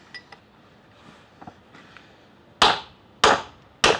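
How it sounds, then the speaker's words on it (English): Three sharp, loud metallic strikes of a hammer on a big chisel against a Series 1 Land Rover swivel housing during restoration, evenly spaced after a few faint taps and clinks. "Nice big chisel, less damage."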